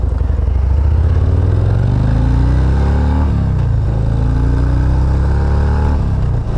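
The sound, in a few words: Harley motorcycle engine accelerating from a green light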